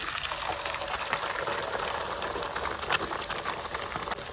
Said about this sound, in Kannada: ಈಗ ನಾನು ಇದಕ್ಕೆ 4 ಮೊಟ್ಟೆಯನ್ನು ಹಾಕ್ತಾ ಇದ್ದೀನಿ